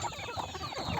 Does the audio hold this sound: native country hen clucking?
yes